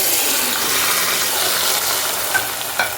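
Water poured into a hot cooking pan of chana dal produces a loud, continuous rushing hiss close by, with a couple of faint clinks near the end and no voices.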